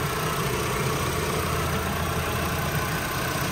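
A 2021 Mitsubishi Triton GLX 4x2 petrol engine runs steadily, heard close and loud from the open engine bay as a continuous low engine rumble with no clear rise in revs.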